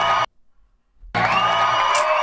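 An indoor theater crowd claps and cheers loudly, then cuts out to near silence for about a second before the dense applause and whoops burst back in and carry on steadily to the end.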